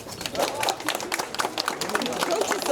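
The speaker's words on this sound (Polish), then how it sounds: "Poprosimy o brawa" A crowd claps and cheers at the opening ceremony of the county and municipal public library in Proszowice, a dense burst of applause mixed with voices.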